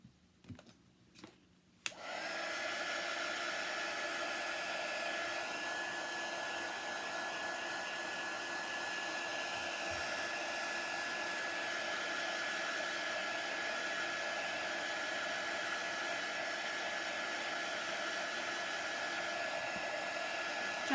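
Hair dryer blowing steadily for about nineteen seconds to dry a wet paste transfer on a cake, after a couple of brief clicks at the start.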